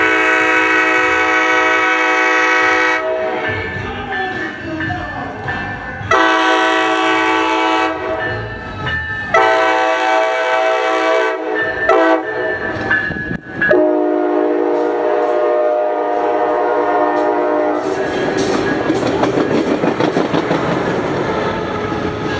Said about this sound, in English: Coaster 684 would arrive into Carlsbad and depart with Cab Car 2306